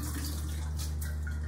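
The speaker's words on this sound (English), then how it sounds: "Then you can start pouring water on them." Water is poured steadily over soapy hands during a hand wash, a continuous close splashing wash of sound with no talking.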